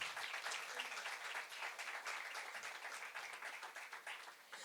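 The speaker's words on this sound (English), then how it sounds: "Please give them a huge round of applause." Steady applause fills a hall at a book unveiling event with a literature speaker, dense clapping that runs fairly faintly throughout without talk.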